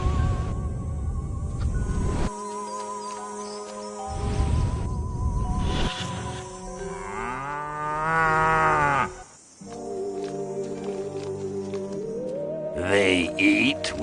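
Cattle moo in the video game Destroy All Humans, with long, drawn-out lowing calls among game sound effects and a buzzing drone, and a brief gap near the end.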